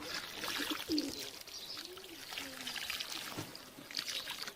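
Water pours steadily from a container onto potatoes planted in sacks, a continuous splashing trickle, with birds cooing and calling in the background outdoors.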